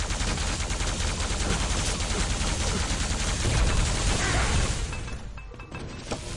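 Continuous, dense machine gun fire roars loud and close in a competitive online shooter match on the Troubled Waters map, a rapid unbroken rattle that thins out near the end.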